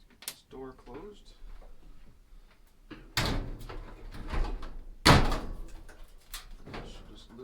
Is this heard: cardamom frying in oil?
no